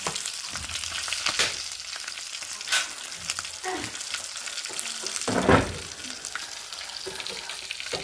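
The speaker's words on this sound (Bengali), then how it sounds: "এই কই মাছ ভাজা" Koi fish (climbing perch) frying in hot oil in a home kitchen, a steady crackling sizzle throughout with a few louder bursts as pieces are moved or turned in the pan.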